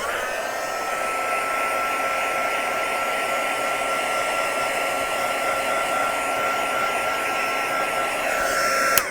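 A hair dryer blows steadily on cardstock set in ceramic resin, a loud continuous whirring hum that holds for the whole stretch and ends with a small click, with no voices.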